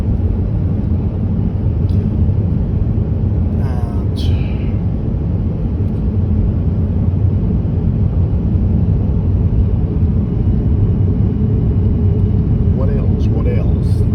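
A 2008 Skoda Superb drives on ordinary roads, its cabin filled with a constant low rumble of engine and road noise, broken by a few brief voice sounds.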